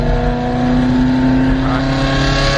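Loud, sustained engine roar from a straight-piped Ferrari F430 held at high revs, a close, raspy, tonal howl with no pauses.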